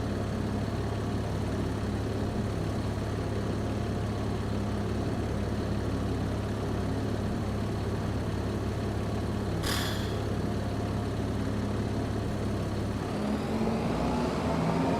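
A tractor engine idles in the Farming Simulator 25 game, a steady low drone with a constant hum throughout, a brief high hiss near the middle, and a slight shift near the end.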